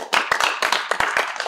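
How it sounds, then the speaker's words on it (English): A small group claps for a speaker at a safeguarding class session, bursts of close, uneven handclaps that quickly bunch together and then taper off, loud and near. "Let's clap for him."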